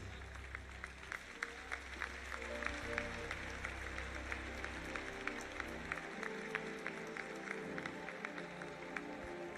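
A church congregation at a conference service applauds, a steady wash of many hands clapping with faint crowd voices underneath, sustained throughout.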